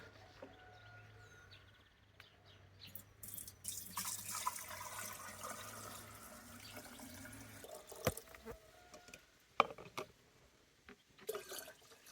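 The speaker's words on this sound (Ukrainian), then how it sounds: "Тепер беремо, розливаємо його по трьохлітрових банках" Lilac wine is poured into three-litre jars, a soft, faint liquid trickle and splashing with intermittent clinks of glass against a quiet background hum.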